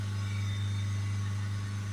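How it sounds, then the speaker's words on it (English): A Peugeot Partner van's diesel engine holds a steady 3000 RPM during particle filter cleaning, close and unchanging, with a strong low drone throughout. "So after a few spike revs now, we'll hold it back at 3000 RPM"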